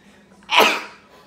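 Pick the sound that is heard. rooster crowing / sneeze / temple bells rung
sneeze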